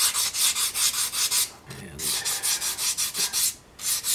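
Fine-grit sandpaper rubs against a small wooden church pew piece for tabletop gaming, rounding off an edge in rapid, even back-and-forth strokes, close and distinct, with brief pauses between runs.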